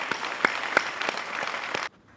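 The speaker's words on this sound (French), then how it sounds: "que je demande d'applaudir" Audience applause at a university innovation and entrepreneurship week in Senegal honours the directors of the centres of excellence. Steady, dense clapping with a few sharper claps runs loud for almost two seconds, then stops abruptly into near silence.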